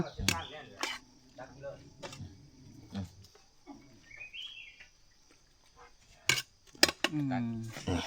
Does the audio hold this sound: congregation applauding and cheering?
no